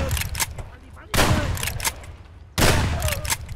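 Gunshots in Escape from Tarkov ring out in a few sharp, loud reports with echoing tails, spaced roughly a second apart, while a voice talks over them.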